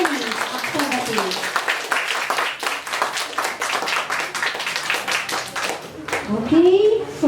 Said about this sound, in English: Please give them a big round of applause for best team debater for this morning's activity.